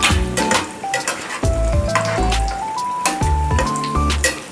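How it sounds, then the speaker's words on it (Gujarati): Bread pakoras fry in hot oil with a continuous sizzle, punctuated by scraping and stirring clinks from a spoon, and a steady musical tone runs underneath. "આ રીતે આપણે તળતા જઈશું"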